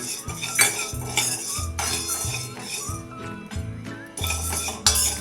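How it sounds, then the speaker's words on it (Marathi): Sago pearls crackle and pop while being dry-roasted in a pan with steady stirring for a fasting-day sweet custard, giving dense clinking, rattling bursts against the metal throughout. "बघा आता साबुदाणा आपला कसा छान चटचट उडायला लागलेला आहे पूर्णपणे फुललेला आहे"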